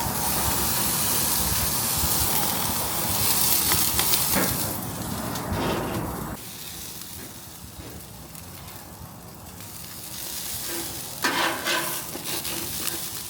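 Steady, loud sizzling and hissing of chicken thighs frying in a hot pan, continuing throughout with slight shifts in intensity.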